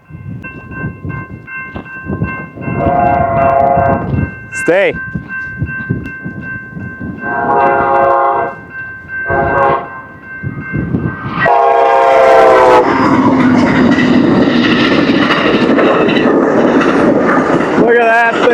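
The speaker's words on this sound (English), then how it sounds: "Oh wow, we got a train coming." An Amtrak Empire Builder on the Great Northern line sounds several loud horn blasts while passing, ending in a rushing, clattering roar of railcars. People talk excitedly nearby throughout.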